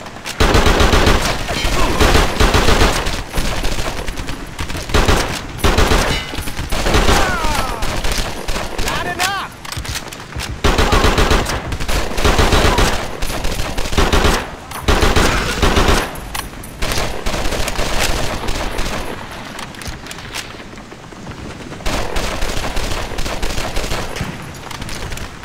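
Gunfire in the video game Medal of Honor Heroes 2 rattles almost nonstop, rapid automatic bursts and single shots, loud and close, with brief lulls and background game voices under the shooting.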